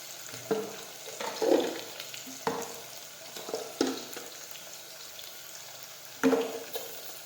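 Spices sauté in a pan during home vegetable cooking, a quiet continuous frying hiss punctuated by several distinct spoon knocks and stirring scrapes spaced a second or two apart.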